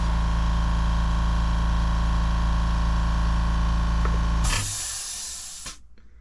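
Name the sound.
Badger Patriot 105 airbrush spraying paint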